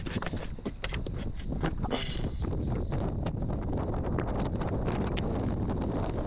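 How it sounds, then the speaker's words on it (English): Strong gusts buffet the microphone in a continuous roaring rumble outdoors on a fishing trip, with bursts of harsher rustling noise throughout. "Whoa, it's so windy."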